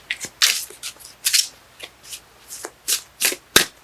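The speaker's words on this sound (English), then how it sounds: "Cards let me know when they're done shuffling." Tarot cards being shuffled by hand at close range, with a run of about a dozen crisp, brisk riffling bursts in an uneven rhythm and no voices.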